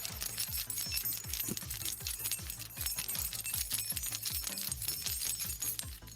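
A bunch of metal keys jangles and clinks in both hands, shaken in a rapid, steady rhythm of short metallic rattles close to the microphone, with no voices.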